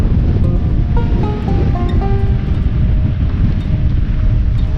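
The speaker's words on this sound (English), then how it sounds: "you can probably hear and see the grass moving, how fast the wind is" Strong wind roars across the open high moor of Dartmoor, a steady loud rushing buffet against the microphone with a faint tonal whine running underneath.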